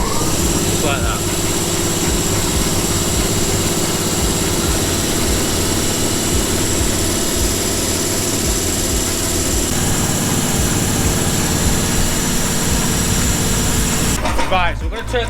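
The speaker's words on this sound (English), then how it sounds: "I'm going to turn the pump on." Fuel pump draining petrol from an end-of-life vehicle in a UK depollution workshop: a loud, steady mechanical drone and whine runs throughout without a break, shifting briefly near the end.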